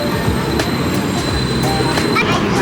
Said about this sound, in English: just gotta wait for the monorail